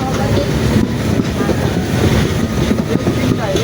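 A train pulls into a station in India: a loud, continuous low rumble and rolling clatter of rail cars, with faint crowd noise mixed in.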